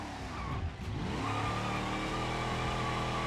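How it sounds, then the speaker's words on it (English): A school bus in BeamNG doing a tire burnout, its engine revving hard and holding a loud, steady roar with a brief dip as the tires spin and scrub, close and continuous with no voices. "let's do a burnout in this thing. Smoking the tires pretty good."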